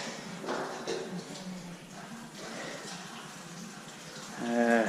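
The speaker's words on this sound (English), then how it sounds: "Right, I'll rinse the mash as well." Water rinses through a brewing mash in uneven, splashing surges. A tonal whine rises briefly near the end.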